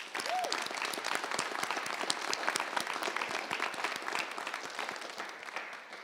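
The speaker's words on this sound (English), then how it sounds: "if everybody could just give a round of applause to Debbie." Dense, steady applause from a crowd at a school district apprenticeship fair in Colorado Springs, loud and close, lasting throughout with no break.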